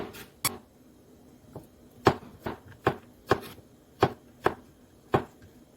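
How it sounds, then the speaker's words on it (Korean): A knife cuts a halved zucchini into medium-thick slices on a cutting board, giving sharp, close chops in an uneven rhythm of about ten strokes with short pauses, no voices. "반을 가른 후에 너무 도톰하지 않고 너무 얇지도 않게 적당한 크기로 썰어주겠습니다"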